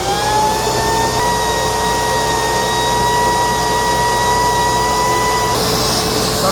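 Sandia Super Raven backpack vacuum running with its suction on, a loud steady motor drone with a rising whine that holds nearly level, shifting slightly near the end.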